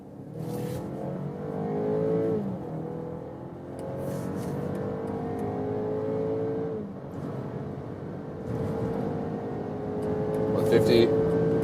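BMW X3 or Mercedes GLC SUV accelerating hard in sport mode on the German Autobahn, engine note climbing through several gear shifts inside the cabin, with road roar and a voice speaking over it.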